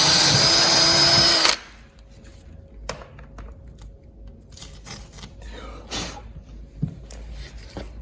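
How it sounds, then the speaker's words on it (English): A power drill whines loudly for about a second and a half while boring a hole for a GBS Zero boot cover fixing, then stops, followed by quiet scattered taps and handling clicks. "that's where the centre of the hole that you want to drill for the other side of the fixing"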